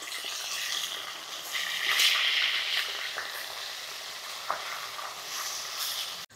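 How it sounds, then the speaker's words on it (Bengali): Pieces of katla fish sizzle and spit steadily in hot oil as they are turned one by one in a pan, a continuous close frying hiss with occasional light clicks from the utensil. "মাছটা এবার এক এক করে উল্টে দেব।"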